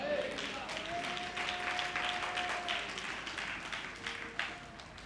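A congregation at a Tamil church communion service claps in a scattered burst of applause, with voices mixed through the clapping.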